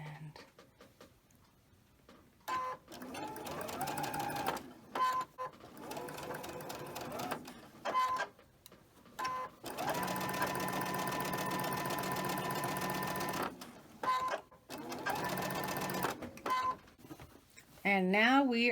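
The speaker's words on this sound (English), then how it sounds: "This fabric for the leader ender, the green Christmas fabric, is kind of thick. All right, let's go ahead and get that started." A home sewing machine stitches through thick green Christmas fabric used as a leader ender, running in repeated bursts of steady whirring separated by short pauses, close and fairly quiet.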